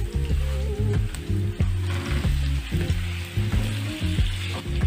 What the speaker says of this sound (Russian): И следом отправляю нарезанный картофель.